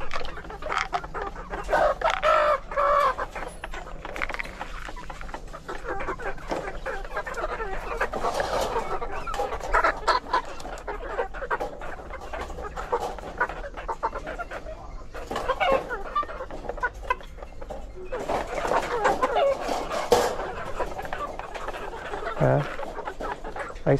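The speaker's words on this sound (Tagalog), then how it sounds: "Mas malalaki talaga tong mga manok ko dahil alaga sila." Backyard chickens clucking steadily across the whole stretch, several birds close by with overlapping calls, a brief rooster-like call near the end and faint farmyard background.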